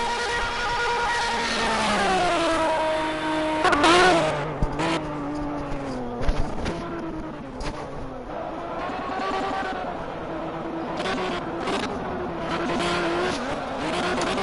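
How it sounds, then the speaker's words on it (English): Race cars in the Project Cars video game roar loudly and continuously as they run a Le Mans endurance race, engines shifting pitch while they bounce over curbs, with a commentator talking over the noise. "Obviously, extremely loud these cars as GT Jamie Stig bounces over the curb"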